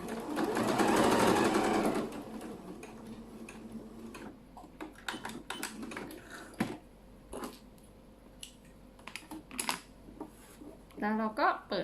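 A sewing machine stitches fabric scraps into a quilted shopping bag. Someone talks over a low hum at the start, then faint mechanical ticking runs under sparse clicks and short rattling bursts of stitching.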